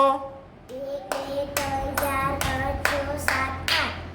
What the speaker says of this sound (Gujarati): તમે આઠ તાળી પાડો